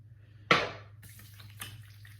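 Smoked-scented aftershave splash poured into the hand and slapped onto the face, a single sharp wet splash followed by faint dabbing and rubbing sounds, close and quiet with no voices.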